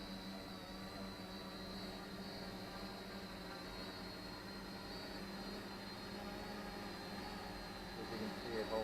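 An Openpilot Revo Nano drone hovering under altitude hold gives a steady, unbroken whine of small motors and propellers, constant in level throughout.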